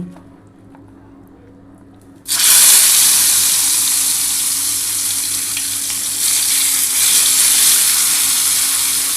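Spiny gourd (kakrol) pieces are dropped into hot oil in a wok. After a quiet start, a sudden loud, crackling sizzle bursts in and stays strong and continuous.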